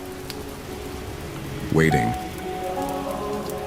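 Steady rain patters on a surface outside a medieval chapel at night, a soft continuous hiss under a calm narrating voice.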